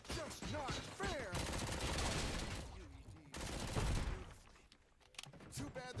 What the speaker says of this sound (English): Too bad they're shooting at me.